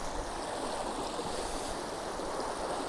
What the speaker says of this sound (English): it's so beautiful to see the running water